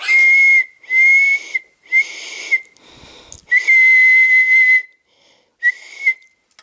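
A person whistles a series of sustained, breathy notes in short bursts separated by pauses, close and fairly loud.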